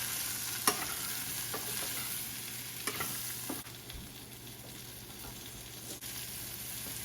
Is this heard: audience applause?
no